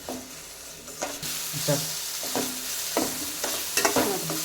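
Ingredients frying until brown in a pan for a home-cooked vegetable dish, with steady sizzling broken by repeated scraping stirs of a spoon, close and fairly loud with no talking.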